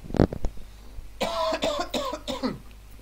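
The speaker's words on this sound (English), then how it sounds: "Sorry, I have to cough." A woman coughs a few times close to the mic at the start, a short sharp burst, and a voice then talks.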